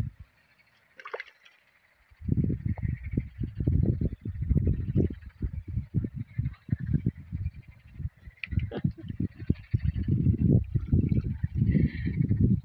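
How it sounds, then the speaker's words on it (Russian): Frogs croaking in a dense chorus at a rural pond, a steady stream of rapid, close croaks that starts after a quiet opening and continues without pause. "Лягушки запели."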